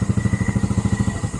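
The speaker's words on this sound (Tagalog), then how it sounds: "Si Nestor ang mag-drive sa motor." A motorcycle engine runs close by in a rural setting, its steady rapid putter of exhaust pulses loud and even with no talk over it.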